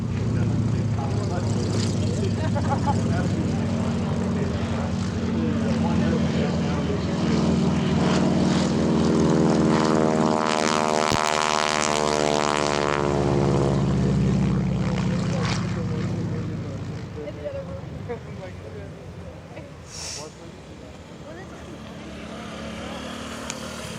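Propeller warbird roaring overhead at EAA AirVenture air show, engine drone swelling loudly to a peak around the middle as it passes close, then fading away, with a crowd and announcer voice faintly underneath.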